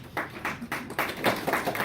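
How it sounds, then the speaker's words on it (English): An audience claps at a marketing mastermind meeting, a short burst of scattered handclaps pulsing unevenly and fairly faint, with no voices over it. "So give her a round of applause"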